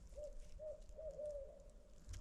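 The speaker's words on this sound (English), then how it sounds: "There's a barred owl hooting right over there." Barred owl hooting at dusk on Pennsylvania public woodland: a faint, distant run of four or five soft, mellow hoots, the last ones running together, over quiet outdoor background.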